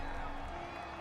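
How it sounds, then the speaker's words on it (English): The home crowd in Madden 21, a football video game, sends up a broad, steady roar of cheering, loud and continuous through a one-second burst. "This home crowd, they're happy with that call."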